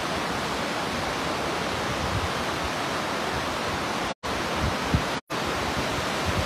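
Floodwater rushes through Kagbeni in Mustang as a steady, loud, broadband roar with no letup, broken only by two brief cuts of silence.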